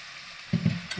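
Ghee spooned into hot kharabath, a short close sizzle that flares up in the second half of a brief moment, with no voices.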